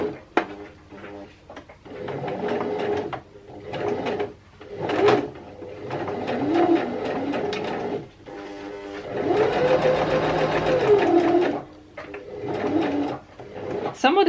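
Sewing machine running zigzag stitches along a thick edge of at least four fabric layers, in several bursts of steady mechanical whirring separated by pauses, with a voice talking in between.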